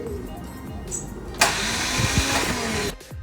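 A classic Plymouth engine cranks on a newly installed starter motor, a loud steady whirring drone of about a second and a half that cuts off abruptly, with a quieter mechanical hum before and after.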